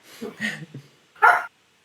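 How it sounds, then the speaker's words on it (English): Several short dog barks in the background: a quick cluster of softer yips followed by one louder, sharper bark, then quiet. "Oh, that's a dog barking."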